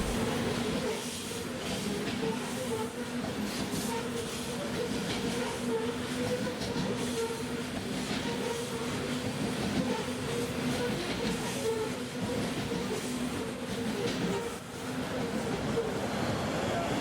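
Rail motors 621 and 721 rolling past at a distance, a steady rumbling hum with faint rhythmic rail clatter, fairly quiet throughout.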